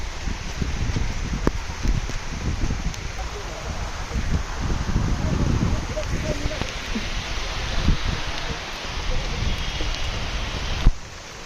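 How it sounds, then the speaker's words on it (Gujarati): Rain begins falling outdoors during a village Janmashtami celebration, a dense, steady patter with gusty rustling and faint voices underneath. "ફટાફટ વરસાદ ચાલુ થયા"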